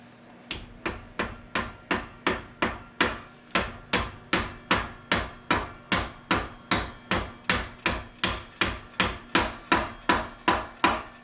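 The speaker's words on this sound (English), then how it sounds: "let's hammer it in, make sure it's good" A hammer drives a greased shaft into an ONYX bike pedal, around two dozen sharp metallic blows landing in a steady, even rhythm, each ringing briefly before the next, close and loud with no talking.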